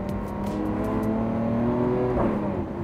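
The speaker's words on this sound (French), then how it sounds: "tu vas voir que le changement de rapport, il est beaucoup plus sec comme ça" A supercar engine in Corsa mode revs hard and steadily near the listener, its droning pitch climbing before a quick, sharp gear change breaks the tone late on.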